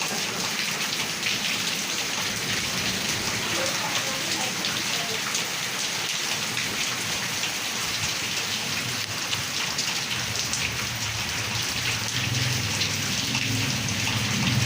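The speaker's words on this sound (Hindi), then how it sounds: "बारिश हो गई" Steady, heavy rain pours down in Karachi without pause, a dense hiss of drops drumming on surfaces close by, with no voices.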